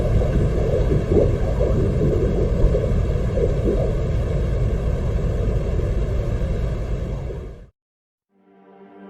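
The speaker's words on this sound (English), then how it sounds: "this is what it sounds like on the surface of the planet" The surface of Venus, recorded by microphones on a Soviet probe in 1982: a steady, dense, low roar like wind rumbles for about eight seconds, cuts off abruptly to silence, then a faint thin hum returns.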